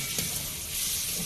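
Ridge gourd fries in a pan with a steady, close sizzle and faint stirring scrapes, running briefly and evenly with no voices.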